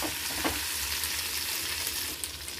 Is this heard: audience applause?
no